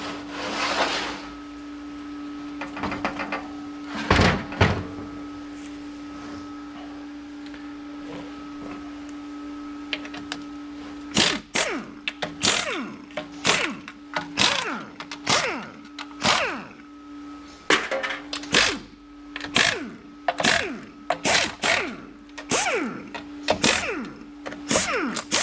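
The bore of a 4L60E transmission is being polished, with scattered scraping and rubbing at first, then a run of sharp, rapid abrasive strokes in bursts. The sound is close, with a steady hum underneath.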